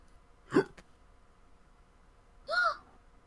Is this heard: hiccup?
yes